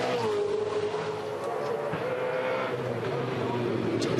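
A V8 Supercar at a 2013 Sydney top-ten shootout drives hard through an oversteering, sideways moment, its engine note a loud continuous rising drone heard at close range, with commentary talking over it throughout.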